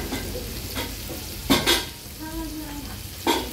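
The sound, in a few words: beef frying in a pan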